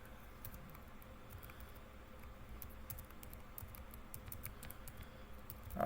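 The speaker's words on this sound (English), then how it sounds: "I'm going to type, I'm just going to put a bunch of numbers in here." Soft keystrokes patter on a computer keyboard as numbers are typed into the Nano text editor on Linux, a quiet irregular clicking close by with no talking.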